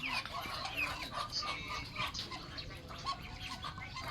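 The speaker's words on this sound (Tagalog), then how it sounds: "Ayan yung ibon ni Kidlat ng San Simon, Pampanga." Fighting roosters crowing and clucking at a cockfight in San Simon, Pampanga, heard amid a loud, dense crowd roar that persists throughout.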